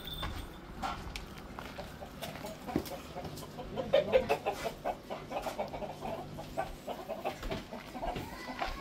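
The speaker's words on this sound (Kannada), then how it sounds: "ಇವು ಕೋಳಿ ಇದಾವೆ ಇಲ್ಲಿ." Chickens on a farm cluck in a steady scatter of short calls at close range, with a few louder clucks in the middle and background farm noise throughout.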